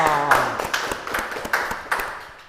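An audience at an Indonesian show claps in a short burst of sharp, separate hand claps, with a voice briefly audible at the start.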